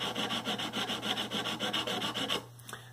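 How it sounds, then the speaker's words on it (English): Sandpaper rubbing the metal frets of a guitar neck, a steady rapid back-and-forth rasping that is close and loud, ending abruptly near the end. "Especially when you use sandpaper on metal."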